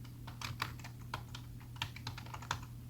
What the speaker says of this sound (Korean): 엔터를 2번 누르고 파일의 이름을 입력합니다.